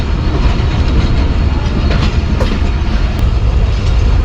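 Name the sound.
Shalimar Express diesel train departing Faisalabad station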